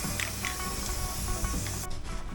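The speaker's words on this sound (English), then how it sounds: "And a few coats of galvanizing spray." Galvanizing spray from an aerosol can hisses steadily onto welded metal on a kit-car chassis build, a continuous close spray that cuts off near the end.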